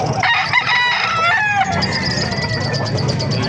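Roosters crow loudly and close together at a chicken market in Calumpit, Bulacan, one long crow overlapping others amid clucking and busy background noise.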